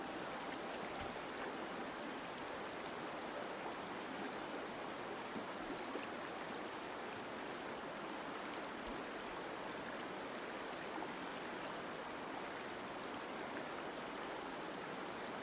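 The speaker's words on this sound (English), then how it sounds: "I'm just going to turn off all the sound and let you hear the river" Steady river flowing, a continuous broad wash of rushing water with no breaks, even and moderately close, with no voices.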